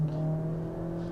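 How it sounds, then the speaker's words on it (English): A 2019 Hyundai Santa Fe's small-displacement turbocharged engine hums steadily inside the cabin on an interstate, a low, even drone with a faint whine and no talk over it. "You could hear a little bit of the engine noise. It's a small displacement turbocharged engine"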